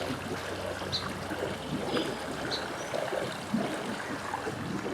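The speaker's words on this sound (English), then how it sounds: "Now it's just got to work that air out. And we have more bubbles once again." Air bubbles gurgling and trickling through a backyard pool skimmer as trapped air works out of it, a steady watery burble with occasional small pops, close and alone.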